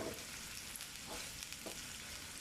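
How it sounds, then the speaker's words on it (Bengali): Chopped onion fries in a pan for stuffed pointed gourd, a faint, even sizzle and crackle that holds steady throughout with soft stirring swishes. "পেঁয়াজটা ভাজা ভাজা করতে হবে, একটু লাল লাল করে ভাজতে হবে।"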